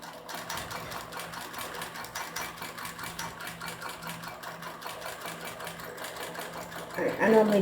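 A sewing machine stitches slowly and evenly with very thin 100 weight thread at a stitch length of 3, a soft rhythmic whir that runs continuously for several seconds.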